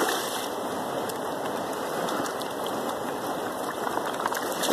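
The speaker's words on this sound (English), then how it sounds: "So I shake it back and forth to get all the black sand in the bottom." Steady rushing and sloshing as a gold pan is shaken back and forth in water, a continuous churning swish with no pauses and no voices.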